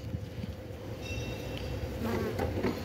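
Bees buzz in a steady, close hum around a hive, with faint rustling and handling noises mixed in.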